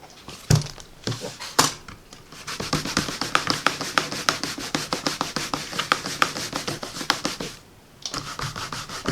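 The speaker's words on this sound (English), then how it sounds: "I want to get my Stampin' Scrub so I can clean my" A rubber stamp is scrubbed back and forth on a Stampin' Scrub pad, producing a rhythmic series of close, brisk rubbing strokes that pause briefly near the end before resuming.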